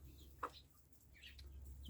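Grey Cheonggye chickens cluck in a farmyard in freezing winter weather. There are a few soft, scattered clucks and calls, one sharper call near the start, all faint over a low, steady rumble.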